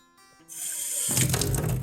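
Water from a newly plumbed kitchen tap comes on suddenly after a quiet start and runs as a steady, close, broadband rush until the end.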